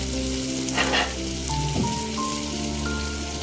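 Chopped chili, onion, corn, carrot and cabbage sizzle in a pan for vegetable pasta as they are stirred, a close, continuous fry hiss over a faint steady tonal hum, with no talking.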